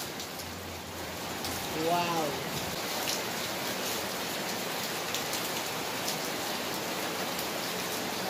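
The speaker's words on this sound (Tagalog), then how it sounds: "Malakas ang ulan, guys." Heavy rain pours steadily over an outdoor grill where pork liempo is cooking, a constant dense hiss with a brief exclaimed word from a person partway through.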